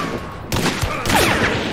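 Gunfire in Hunt: Showdown, a sudden loud shot then a close burst of further shots with rumbling echo, no talk.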